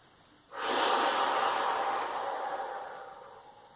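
A long, deep exhale out through the mouth during a relaxation breathing exercise, starting abruptly after a quiet moment, then a close, loud rush of breath that slowly fades away.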